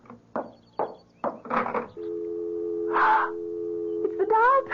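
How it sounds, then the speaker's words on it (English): A telephone dial tone in a 1974 radio mystery drama: a steady, close hum begins after a few clicks and handling noises from the handset being picked up and continues, with a brief voice cutting in over it. "It's the dial tone."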